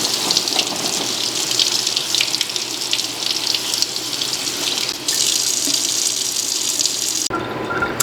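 Tap water runs steadily into a sink while cooked chickpeas are rinsed, a loud close gush with faint splashing throughout, stopping abruptly near the end, with no voices.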